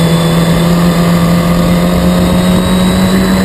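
Historic Formula Ford racing cars at Snetterton give off a constant, loud, droning engine note with a steady whine that holds level throughout, and no voice is heard.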